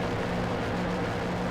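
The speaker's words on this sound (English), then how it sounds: "It sounds like this car is stuck in that." Steady droning car engine in the racing game Asphalt 8, held at one pitch as if stuck in a fake gear shift, a continuous low hum with no breaks.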